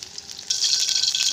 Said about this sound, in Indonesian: Ini aku mau goreng dulu tempenya.